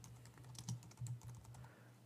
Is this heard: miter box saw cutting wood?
no